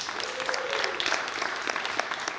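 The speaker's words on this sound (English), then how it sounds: "Round of applause for Bruce Hill." An audience applauding at a comedy industry address, steady close clapping throughout with a brief whoop or voice mixed in.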